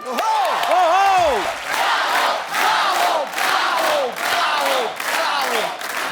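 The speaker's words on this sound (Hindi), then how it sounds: "आप सबकी जोरदार तालियों के बीच" A studio audience on a Hindi comedy talk show cheers and claps loudly, with whoops and shouts rising over the applause in repeated surges that stay close and full throughout.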